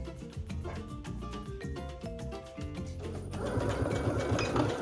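A sewing machine stitches fabric from one edge to the other, a steady close mechanical whirr with rapid rhythmic needle clatter that speeds up and grows louder and busier toward the end.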